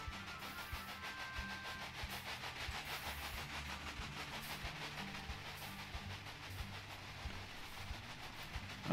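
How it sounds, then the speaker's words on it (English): Trains in the Railway Empire video game rumble along with a continuous, faint mechanical clatter and hum that holds steady throughout. "those trains are running now"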